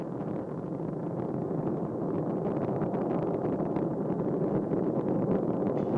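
The Space Shuttle Discovery's engines roar during the STS-128 launch from Kennedy Space Center as a dense, continuous, rumbling, wind-like roar, steady and loud throughout with no voices.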